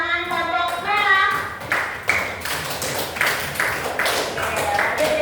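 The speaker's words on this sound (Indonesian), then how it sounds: "Tepuk tangan kelompok merah." Classroom applause for the red group: many hands clapping together for several seconds after a teacher speaks, the claps dense and close.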